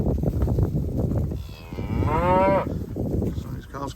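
Cows on a farm moo close by, one long rising-and-falling moo in the middle with shorter lowing sounds before and after over a busy background.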